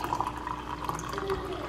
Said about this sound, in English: Let me first add hot water.